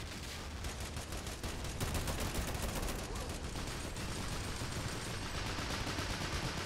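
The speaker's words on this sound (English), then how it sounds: "Look at those 30 cals firing away." Bursts of .30 cal machine gun fire rattle on in the World War II strategy game Men of War: Assault Squad 2 during an island landing, dense continuous gunfire with overlapping shots, fairly quiet and sustained throughout.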